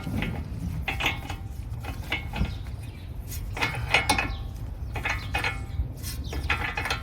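Mechanical clicks and metallic ratcheting as bolts on the steering rack of a 2018 Chrysler Pacifica are tightened, in repeated short bursts over steady low shop rumble with no talk.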